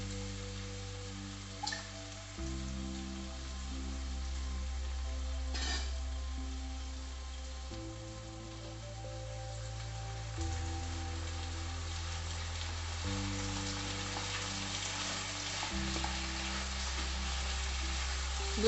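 Chopped fenugreek leaves fry in a pan with potato for a Tulu-style upkari, a soft steady sizzle running throughout with occasional stirring clicks, faint and close under low background hum.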